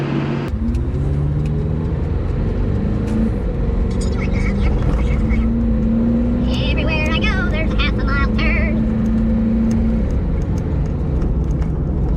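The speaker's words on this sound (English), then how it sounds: "I'm right here in my rollback, just coming up the road." A rollback flatbed tow truck rumbles steadily up the road, its low engine drone continuous and fairly close, with a brief rising whine partway through.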